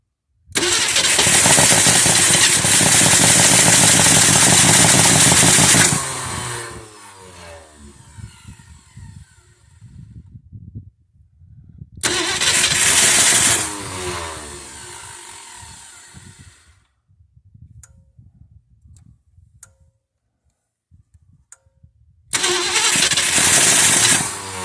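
An abandoned Ford Fairlane, sitting unstarted for 35 years, cranks and fires into loud rough running bursts, cutting out between attempts with quieter clanks and rattles in the gaps, then catching again near the end.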